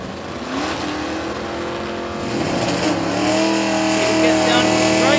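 Stock class drag race cars on the strip at a class racer nationals event, engines droning and then rising in pitch as they accelerate, growing louder toward the end beneath a commentator's voice.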